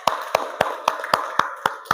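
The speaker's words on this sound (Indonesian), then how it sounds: "tepuk tangan dulu ya untuk Mbak Jenas" Steady rhythmic handclaps ring out at an even pace during a classroom lesson, about eight crisp claps close by, applauding a participant, with no talking.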